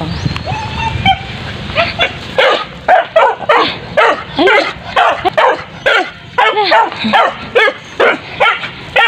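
A dog barks and yips repeatedly in quick, excited bursts, close and loud, with some whimpering notes mixed in.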